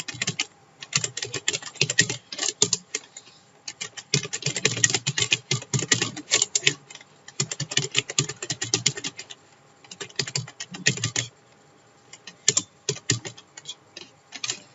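Text typed on a computer keyboard: rapid close clicking keystrokes in bursts, separated by short pauses, with no talking.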